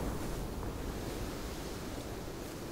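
A river roars in the Sons Of The Forest video game as a loud, steady broadband rush of water with no breaks and no voices.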